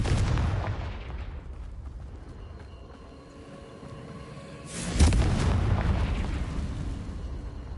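A fire-blast spell bursting in the Hogwarts Legacy video game: one heavy boom that fades over several seconds, then a second loud explosion with a rumbling tail, close and without talk.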